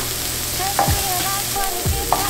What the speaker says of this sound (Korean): 부드럽게 녹는 느낌이 나게 양파를 볶아주세요.